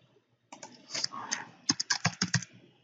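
Keys on a computer keyboard clatter as a username and password are typed in, a short burst of close, crisp clicks, first a few uneven taps, then a quicker run of sharp strokes after a brief silence.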